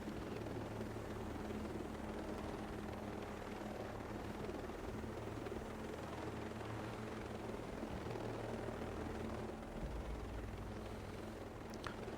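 A helicopter's engine and rotor drone steadily and loudly throughout, heard from inside the cabin in flight, with no talking.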